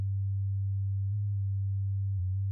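Sustained low synthesizer tone in Reason using self-multiply modulation, a steady pure hum with slight wavering near the end and no other sounds.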